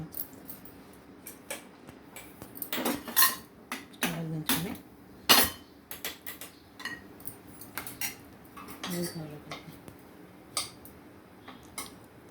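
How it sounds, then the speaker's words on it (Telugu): A spoon clinks and scrapes against a pot while cooked dal for a tomato dal curry is stirred, giving scattered close metallic taps and knocks, loudest in the middle, with quiet gaps between. "పప్పు అయితే ఇలా ఉడికిందండి దీన్ని బాగా కలబెట్టేద్దాం"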